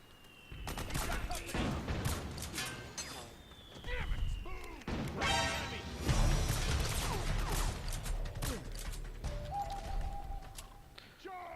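Sustained bursts of gunfire in the video game Metal Gear Solid 4 on PS3, dense overlapping shots and crashes continuing throughout, with people talking excitedly over the shooting.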